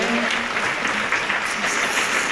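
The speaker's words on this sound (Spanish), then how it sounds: "Vamos a dar un aplauso, ¿eh?" An audience at a talk on migration and borders gives a short burst of dense, steady applause, close and fairly loud, with a faint voice briefly audible under the clapping.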